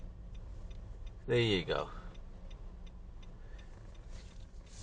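A car's turn signal indicator ticking at a steady regular pace inside the cabin during a driving lesson, faint beneath engine hum, with a brief spoken phrase partway through.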